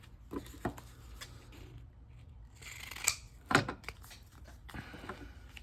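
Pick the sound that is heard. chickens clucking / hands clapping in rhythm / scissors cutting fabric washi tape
scissors cutting fabric washi tape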